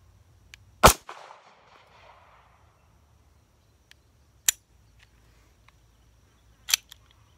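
Three sharp, isolated pistol trigger reset clicks, well spaced with long quiet gaps between them, close and crisp against a faint background hum.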